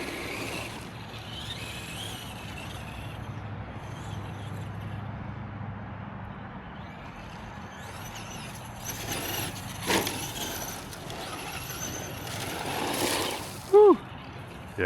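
Traxxas Slash 2WD XL-5 RC car driving on a dirt bank, a faint motor whine and tyre scuffing under steady background noise, with a couple of louder bursts near the end as it accelerates.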